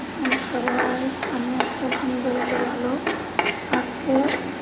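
Onion fries in a pan before tomato goes in for an egg curry; a steady sizzle runs under repeated scraping stirs of a spoon against the pan, with brief clinks.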